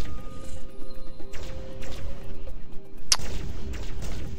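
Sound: gunfire from troopers in the video game Starpoint Gemini 2

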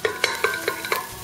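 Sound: spinach stirred into frying onions in a pan

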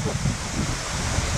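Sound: large waterfall

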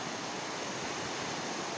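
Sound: Goascorán river flowing under the El Amatillo bridge

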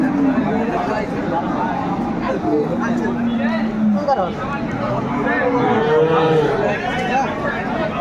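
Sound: cows with calves at cattle market

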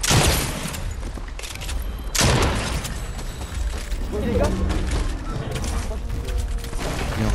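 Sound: gunfire in the video game Fortnite

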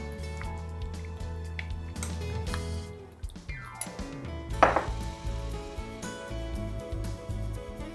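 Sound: knife chopping food

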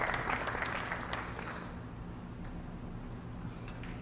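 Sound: pool players clapping

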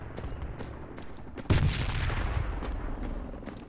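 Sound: grenade explosions, from video game Project Reality

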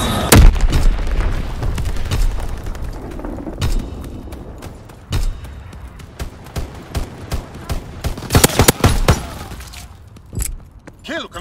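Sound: Fritz X bomb strike explosions in Call of Duty WWII video game

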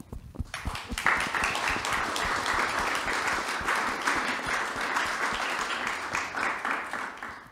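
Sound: audience applause

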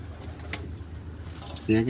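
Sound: pigeons cooing

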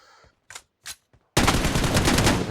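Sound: gunfire in the video game PUBG Mobile

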